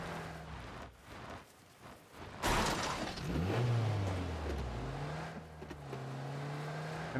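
A car engine in PUBG rumbles low and uneven, then swells into a louder revving roar with rising and falling pitch as the vehicle gets moving, with no talking.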